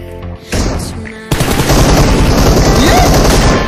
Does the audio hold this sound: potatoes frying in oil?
no